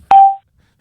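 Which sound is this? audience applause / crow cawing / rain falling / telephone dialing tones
telephone dialing tones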